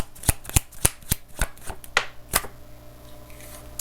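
Tarot cards being shuffled and drawn from a deck, heard as a quick series of sharp, close flicks and snaps with a softer rustle trailing off at the end.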